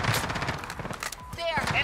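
Gunfire from an AMAX rifle during a Halloween event match in Modern Warfare, a quick run of shots over roughly two seconds with someone speaking excitedly on top of it.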